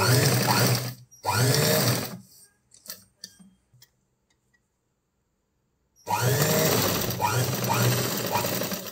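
A sewing machine stitches blouse pieces together in close, loud bursts: two short runs, a pause with faint clicks and handling, then a longer steady run.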